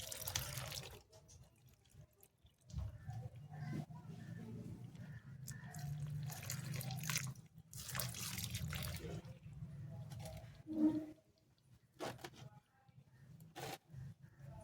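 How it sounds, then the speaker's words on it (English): Water poured from a container onto snake plant (Sansevieria) leaf cuttings set in soil for propagation, giving soft, uneven splashing and trickling in several bursts at close range, faint and with short pauses. "So the last step of this video is to add some water."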